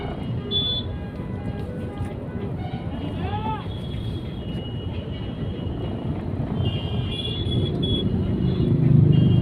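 A traffic jam in a town in Uttar Pradesh, India: a steady rumble of idling and creeping vehicles with occasional tonal horn blasts, growing louder toward the end, with voices in the mix.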